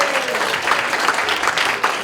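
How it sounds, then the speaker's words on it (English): A short burst of audience clapping for children at a Canadian spelling bee championship, a dense, steady patter of many hands close by, with no voices over it. "I think give a huge round of applause to them."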